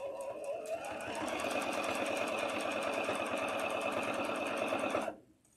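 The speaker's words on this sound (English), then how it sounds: "you're just going to use the edge of your foot and sew all the way around" A sewing machine stitching around the edge of a pillow, a fast steady mechanical whir of needle strokes running for about five seconds before stopping abruptly, close and alone without talk.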